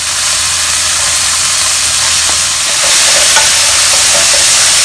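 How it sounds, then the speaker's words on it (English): Shredded carrot and rehydrated dried mushroom sizzle steadily in a hot wok, a loud, close hiss of frying with occasional scraping stirs of a spatula, no voices. "Just fry them around for 30 to 40 seconds"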